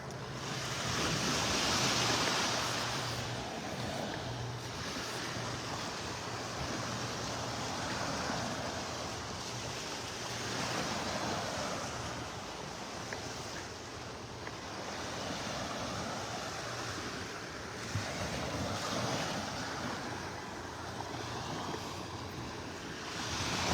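Small ocean waves break on a beach in North Naples, Florida, making a continuous rushing surf wash mixed with steady wind buffeting the microphone.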